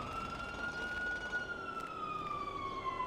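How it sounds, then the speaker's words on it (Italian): Police sirens in the video game GTA 5 wail at middle distance, one long sweeping tone gliding slowly up and then down, heard alone over a faint background hum. "forse la polizia sta tornando, sì, sento sirene"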